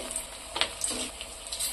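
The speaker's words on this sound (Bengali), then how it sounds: "তেলটা গরম হয়ে গেছে, আমার ম্যারিনেট করা চিকেনগুলো দিয়ে দিচ্ছি তেলের মধ্যে" Marinated chicken pieces frying in hot oil for a dhaba-style chicken chilli fried rice, a steady crackling sizzle with a few sharper pops and bursts, close and moderately loud, no talking.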